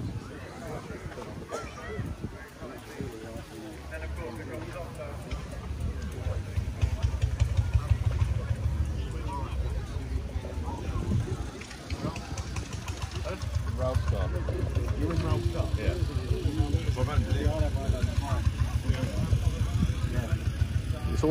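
A classic car engine idles at an outdoor car show, a steady low rumble with faint knocking, fairly distant under crowd noise and people chatting nearby.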